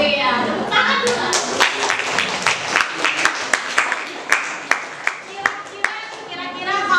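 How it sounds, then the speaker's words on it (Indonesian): A classroom of students claps together during a teaching assessment session, a dense burst of hand claps that gradually becomes slower, louder individual claps near the front before trailing off, with some speech mixed in. "Iya, tepuk tangan dulu."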